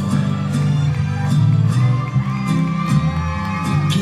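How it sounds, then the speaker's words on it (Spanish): Party crowd at a quinceañera event welcoming señora Sofía, loud mixed cheering, whoops and shouting with music-like tones underneath, sustained and close throughout. "Recibámosla a ella con un fuerte aplauso, señora Sofía"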